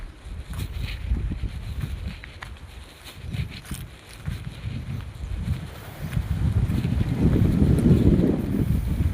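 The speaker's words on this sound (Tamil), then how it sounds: "காற்றுன்னா காற்று சரியான காற்றுங்க." Strong wind buffets and rumbles loudly against the microphone in gusts, building to a heavier roar toward the end.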